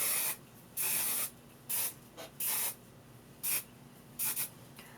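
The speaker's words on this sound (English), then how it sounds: "I'm going to spray my entire hair, primarily the bottom portion." Six short bursts of hairspray hiss, close and crisp, sprayed onto short hair, separated by brief quiet gaps, with no talking.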